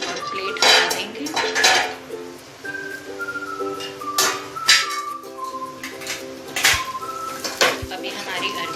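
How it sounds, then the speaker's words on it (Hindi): Metal plate used as a lid clatters and scrapes off a pan of fried arvi on a gas stove, several sharp clinks and rattles in quick succession, close and loud. "अब हम गैस बंद कर देंगे और प्लेट हटा देंगे।"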